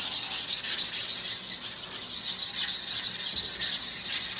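Sandpaper of 220 grit rubbing steadily against a spinning wood-lathe surface, a continuous close hiss with quick rhythmic pulses, no voices.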